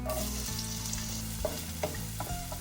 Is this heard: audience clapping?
no